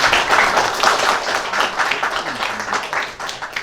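Audience applause at a school quiz competition by the Power Department in Sikkim, a dense, steady wash of many hands clapping for a girls' quiz team, with voices faintly mixed in.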